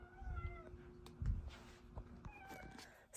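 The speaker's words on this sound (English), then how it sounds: "the cats want to harass me." Household cats meow several times at close range, short plaintive calls spaced over a few seconds amid faint indoor rustling, with no talk.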